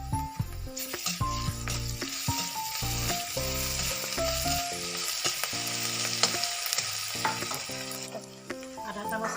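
Ginger garlic paste fries with chopped onions in hot oil alongside bay leaves and dried red chillies, a continuous close sizzle broken by scraping stirs, with no voices.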